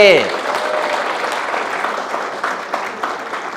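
Audience clapping at a lecture hall talk: a continuous, fairly loud burst of applause from a crowd, steady for several seconds, with a voice speaking over it.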